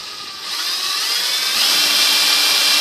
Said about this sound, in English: I have to ream it out a little bit.